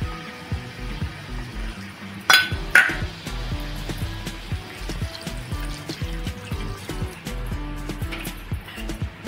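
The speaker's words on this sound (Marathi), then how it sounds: "आता आपण थोडंसं याच्यामध्ये पाणी टाकणार आहोत." Water is poured into a tamarind-spiced suran and prawn curry and mixed, giving watery splashes, spoon clinks and scraping against the pot, with a sharper pouring burst early on.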